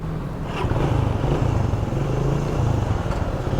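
Motorcycle riding along a road early in the morning on a gasoline run, the engine droning steadily and close with a low rumble and some rattle, continuous throughout with no talking.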